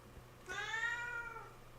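A cat lets out a single clear meow in the middle, set against a faint steady indoor hum, with no talk around it.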